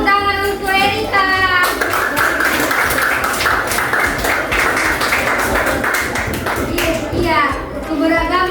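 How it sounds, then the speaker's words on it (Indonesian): A sixth-grade class claps for a student, a steady, dense round of applause from many small hands, close and loud, with a teacher and children talking before and after. "Beri tepuk tangan untuk Erika"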